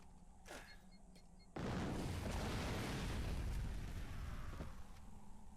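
A grenade in the PS3 game Fracture goes off with a sudden deep boom after a brief quiet creak, then a long rumbling roar that slowly fades.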